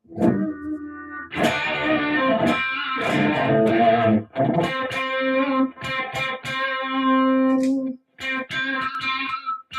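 Heavily distorted electric guitar on the bridge pickup with high gain runs through a pedal, playing chords, single sustained notes and short stabs separated by abrupt silences, with no one speaking.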